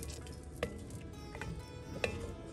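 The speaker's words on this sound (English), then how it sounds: "Mix everything through one more time." Spoon stirring kofta curry gravy with cream in a pan, two soft scraping clicks over a faint low simmer, quiet and close.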